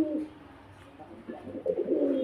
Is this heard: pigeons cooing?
yes